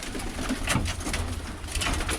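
Birmingham Roller pigeons cooing in a loft, a dense, steady chorus of soft coos with brief fluttering bursts as one bird takes off.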